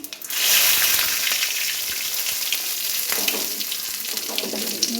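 Whole spices, a pinch of cumin and panch phoron, sizzling in hot oil for an egg and soyabean dish, a loud, dense crackle that flares up at once and keeps hissing steadily, with faint scraping of stirring underneath.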